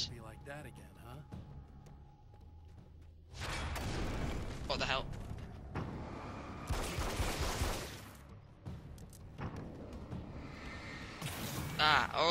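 Pistol shots in Alan Wake's American Nightmare crack out in bursts against enemies of darkness, sharp and fairly loud, interleaved with game noise and someone talking over the action.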